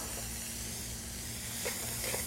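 Chopped celery and carrots sizzle in a pan beside browned bits from a turkey roll, a steady, soft hiss with a few brighter spatters near the end and nobody talking.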